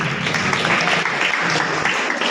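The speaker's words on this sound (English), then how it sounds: "Clap for him." Loud, dense applause from the audience at a karate black belt distribution ceremony at IIT Bombay, a steady wash of many clapping hands filling the room without pause.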